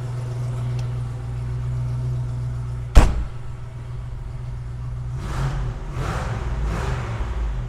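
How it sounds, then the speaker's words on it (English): A 1967 Chevrolet Chevelle convertible engine idles with a steady low hum, interrupted by a sharp door-like thunk, then a few brief revs near the end. "I love the sound of this engine."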